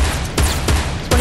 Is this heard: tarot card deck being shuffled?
no